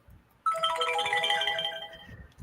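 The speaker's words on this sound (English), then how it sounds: "I have an alarm going off." An alarm tone sounds abruptly after a short quiet pause, a sustained bright ringtone-like melody holding steady for about two seconds before cutting off.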